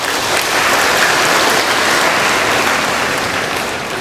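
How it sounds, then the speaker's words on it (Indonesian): A large congregation applauds steadily and loudly at a Catholic ordination of eleven new priests, honouring their parents and families, with dense continuous clapping that fills the space. "Kita berikan tepuk tangan untuk kekuatan."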